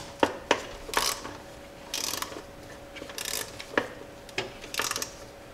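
Hand ratchet snugging up the exhaust manifold bolts on a Jeep 4.0L engine: several short bursts of quick pawl clicking, separated by pauses and sharper metallic taps, close and fairly clear.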